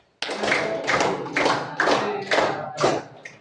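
A class of students claps out a chant in unison, about five to six loud, sharp group claps evenly spaced across a few seconds, each clap a burst from many hands at once.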